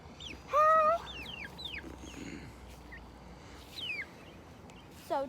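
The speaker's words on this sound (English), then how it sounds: "So this is my chicken." A backyard chicken clucks and squawks nearby in a few short, separated bursts, with faint bird chirps in the background.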